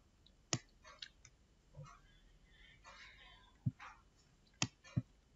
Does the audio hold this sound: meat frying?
no